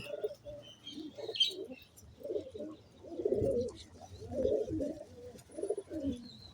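Pigeons coo in a series of soft, low, rounded calls, several birds overlapping at close range while grain is scattered for them, with faint chirps above and no talking.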